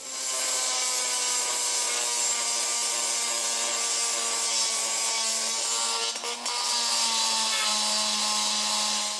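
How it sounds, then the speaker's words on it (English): A grinder works aluminum out of a ramp repair in one continuous, close, loud whine with a steady tone, briefly dipping once before resuming, with no speech. "the big reason I'm grinding this out is so that I get rid of"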